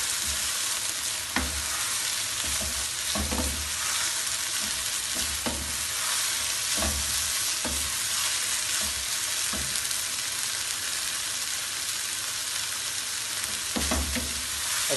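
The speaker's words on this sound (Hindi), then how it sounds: "अच्छी तरह मिक्स करें।" Shredded cabbage and carrots stirred and fried in a hot pan for chicken chowmein, a continuous loud sizzle with repeated scraping strokes of a spatula at an uneven rhythm, close up and without talk.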